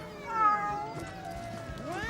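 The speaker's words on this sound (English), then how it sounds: "It's all those fish dinners from Mr. Kamimoto and the other fishermen that explains why these cats ganged up" Cats in a fishing community meowing, several drawn-out, wavering cries that overlap close by, with one rising wail near the end.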